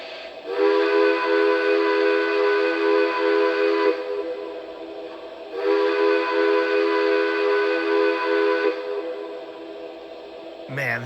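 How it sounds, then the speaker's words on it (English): A Lionel Legacy model train's steam-style whistle sounds in two long, sustained blasts of about three to four seconds each, separated by a short pause, with rich harmonic tones. "I love the whistle here on this."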